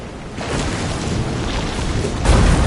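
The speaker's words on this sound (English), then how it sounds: "This is some storm" Stormy seas in Visions of Mana, with a steady roar of wind, rain and heaving waves that swells into a heavier surge near the end, no voices.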